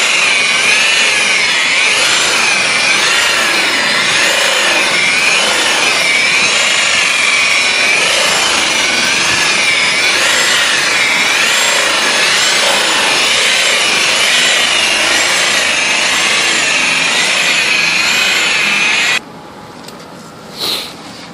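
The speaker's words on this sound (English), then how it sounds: "it's been buffed out with a black wool pad, or you can use any wool pad or heavy-duty cutting pad" Rotary polisher with a black wool pad buffing car clear coat and compound makes a loud continuous whirring friction drone with wavering pitch that cuts off near the end, with no talk.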